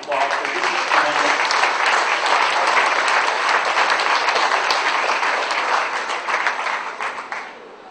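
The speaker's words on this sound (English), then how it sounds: "I would give these people a real round of applause." A crowd at a county fair cattle show applauds the heifer exhibitors, a dense, sustained burst of clapping that holds steady before thinning out and stopping.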